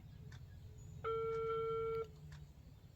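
A telephone rings once with a steady electronic tone lasting about a second, clear and loud over a low background hum, with no talk during the ring.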